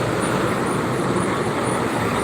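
Dense highway traffic near KM 57 heading to Jakarta during the post-Lebaran return rush gives a continuous broad roar of engines and tire noise, steady and fairly loud, with no distinct single vehicle standing out.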